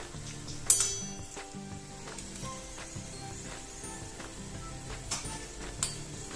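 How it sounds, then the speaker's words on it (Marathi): Green pea vadas fry in hot oil on a high-to-medium flame, a steady low sizzle with occasional clinks of a utensil against the pan, fairly quiet throughout. "हे वडे हाय टू मीडियम फ्लेमवरती तळायचे आहेत"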